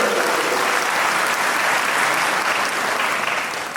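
Audience at a devotional gathering about the Siddaganga Shri Shivakumara Swamiji breaks into loud, sustained applause, a dense wash of clapping that holds steady for several seconds before tapering slightly at the end, with no talk over it.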